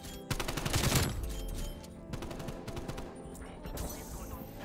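Rapid automatic gunfire in the video game Call of Duty Black Ops Cold War: a dense, loud burst of shots followed by a further rattling volley and fainter trailing fire, with no talking.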